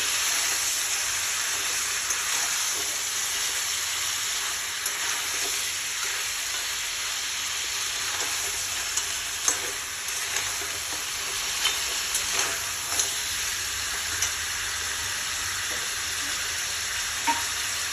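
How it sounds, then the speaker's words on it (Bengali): Crabs fry in hot oil until red, giving a steady, close hiss of sizzling with scattered small pops and crackles, no voices. "প্রায় আমার অনেক কাঁকড়া সবগুলো এরকমভাবে দিয়ে দেবো। এটাকে বেশ ভালো মতো লাল করে ভেজে নেব।"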